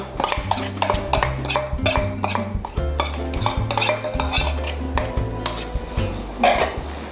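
Korean seaweed salad with carrot, cucumber, chili and dressing is tossed in a bowl, with loud, rapid utensil clinks and scraping against the dish and wet rustling from the mix over several seconds.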